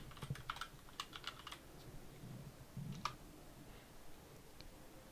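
Keys tapped on a computer keyboard in a PC trading-platform setup, several quick bursts of clicks early on, then a pause and a few scattered keystrokes, close and fairly quiet over a low room hum.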